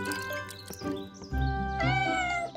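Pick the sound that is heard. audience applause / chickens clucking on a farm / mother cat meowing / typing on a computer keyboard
mother cat meowing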